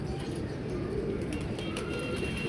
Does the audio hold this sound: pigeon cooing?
yes